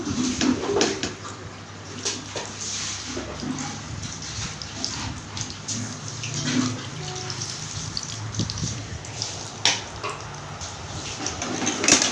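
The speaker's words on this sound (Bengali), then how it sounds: "আমি আর কয়েকটি সিঙ্গারা এই তেলের মধ্যে আপনার ছেড়ে দিচ্ছি।" Singharas fry in hot oil with a soft, continuous bubbling sizzle, faint and steady throughout and broken by occasional louder crackles and clinks.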